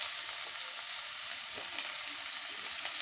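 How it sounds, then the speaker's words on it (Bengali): Potatoes and carrot fry in a pan with a constant bright sizzle, joined by soft scraping from stirring. "এবার গাজরটা দিয়ে দিলাম,"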